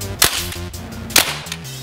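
An Umarex Legends M1A1 fully automatic BB gun fires 4.5 mm BBs, two sharp cracking shots about a second apart, loud and close, with rattling mechanical noise between them.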